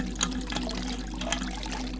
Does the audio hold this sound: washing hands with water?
yes